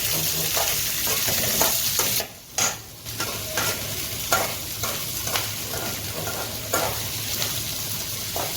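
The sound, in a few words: onions and garlic frying in pan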